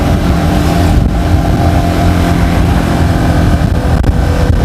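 Yamaha XSR 155 motorcycle accelerating on an ordinary road during a test ride, with a loud, steady engine roar and heavy wind rush throughout, close to the rider.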